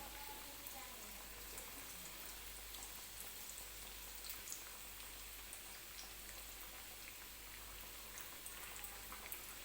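Kothimbir vadi, Marathi coriander fritters, frying in hot oil: a steady, dense crackling sizzle that carries evenly throughout at low level, with no break or change.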